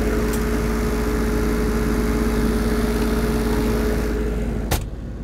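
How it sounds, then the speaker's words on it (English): A Lincoln Electric Dual Maverick 450 diesel engine-driven welder idles with a steady, low droning hum and a faint whine, service door open, running evenly before a sudden clunk near the end. "it's very quiet compared to other diesel engine-driven welders"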